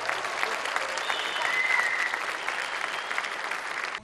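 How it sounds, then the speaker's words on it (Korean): An audience at the Galaxy Note 8 launch event bursts into sustained applause and cheering, a dense roar of clapping filling a large hall with a few whistles rising above it. "갤럭시 노트 8의 모습이 드러나자 행사장 곳곳에서 환호가 터져 나옵니다"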